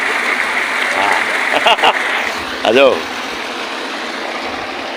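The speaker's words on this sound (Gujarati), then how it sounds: "મોટર ચાલુ કરીને હવેડું ભરાઈ જાય જબરદસ્ત પાણી આવે ને કૂવામાંથી પહાટી છૂટે" Water gushing from a well into a trough through a motor pump, a steady hissing rush heard close and throughout, while people talk over it.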